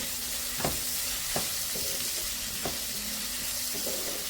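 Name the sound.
stirring onions with salt in a pan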